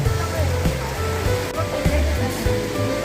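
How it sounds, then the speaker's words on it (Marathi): A steady, full rushing roar of a monsoon waterfall at Pali close by, with voices talking faintly over it. "काय धबधबा जवळ आहे चला"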